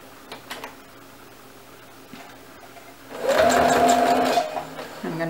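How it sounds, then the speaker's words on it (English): A sewing machine stitches a fabric face mask, running in one steady, loud whirring burst of a little over a second, with quieter handling sounds before and after. "I'm going to back it up again just to make sure it's sewn in really good on those corners"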